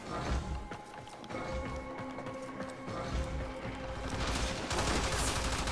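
Futuristic gunfire in a video game, rapid bursts of shots crackling over a busy, noisy battle mix, moderately loud and continuous.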